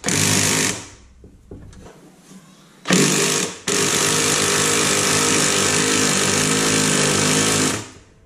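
Honda lawnmower engine running close by, a loud buzzing drone that cuts out briefly, sputters, then restarts and holds steady for several seconds before dropping away.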